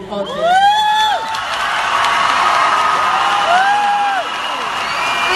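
A loud crowd cheers and whoops for a contestant at the Miss World Philippines 2017 pageant question-and-answer round, with steady roaring noise and rising shouts throughout.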